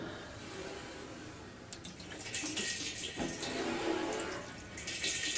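A 10-inch bath squeegee is drawn through a puddle of water on a concave washing machine top, giving a wet, hissing swish in several passes that grows louder toward the end, with no talk.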